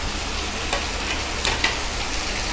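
Mint and coriander are stirred into sautéed tomato in a hot pan for chutney, with a steady close sizzle and frying hiss and a few soft scraping stirs.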